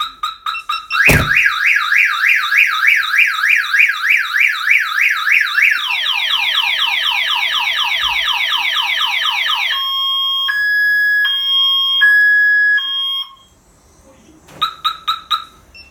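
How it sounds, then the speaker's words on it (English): A Viper Python 3305p car alarm on a 1999 Toyota 4Runner sounds loud and close, cycling through rapid warbling sweeps, chirping tones and steady pulsing beeps before cutting off, then giving a few brief chirps alone. "Now I'm going to open up the door, set off the alarm system."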